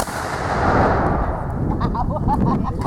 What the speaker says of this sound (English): Another good volley.